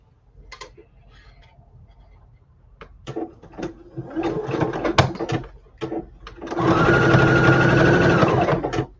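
A sewing machine stitches a quilt seam during chain piecing. Scattered clicks and handling noises come first, then bursts of stitching build into a loud, steady mechanical whir that runs close by for several seconds.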